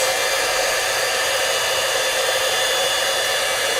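A heat tool blows steadily and loudly, melting silver embossing powder for a faux patina stamping technique; the even, unbroken whoosh fills the whole moment with no voices.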